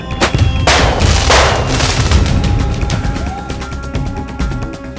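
Fireworks set off at night by villagers to drive wild elephants away, a string of loud sharp bangs and booming cracks close by, followed by a rattling crackle that fades into a steady rumble.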